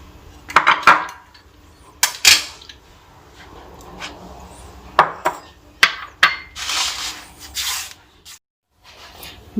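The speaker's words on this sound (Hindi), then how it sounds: "अब हम नगेट्स की कटिंग करते हैं।" Knife chopping raw chicken into nugget pieces on a cutting board, with a series of sharp, close thumps and clacks at an irregular pace, plus some scraping in between.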